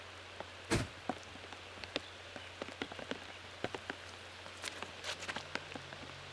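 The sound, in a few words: rain falling on a disc golf course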